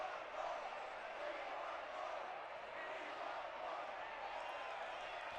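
Steady, dense roar of a crowd cheering and shouting at a live competitive battle event, loud and continuous with no breaks.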